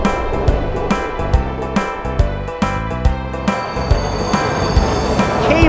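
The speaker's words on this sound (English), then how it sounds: "Monorail." A monorail train runs past with a steady mechanical rumble and a repeating beat of sharp clicks, loud and near, building slightly toward the end.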